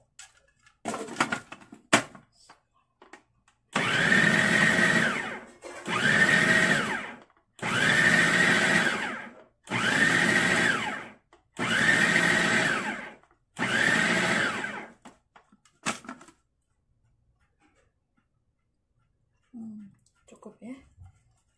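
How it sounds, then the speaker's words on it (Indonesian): Several bursts of a food processor roughly chopping dried anchovies, six loud whirring pulses of about two seconds each with short pauses, followed by quieter handling noises and near silence. "Lalu saya menggunakan food processor. Cincang kasar aja."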